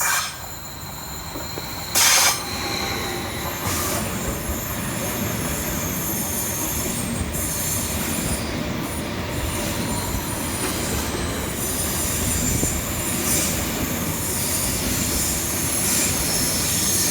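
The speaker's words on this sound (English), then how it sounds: "Next to pass through the station for Greater Anglia is 745-104" A Greater Anglia class 745 electric train passes through a London station, a steady, loud rolling rumble of wheels on rails with squealing and clatter that persists throughout.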